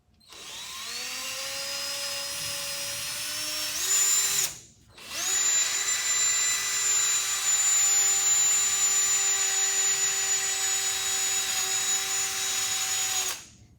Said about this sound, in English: we're going to take a wire brusher on our drill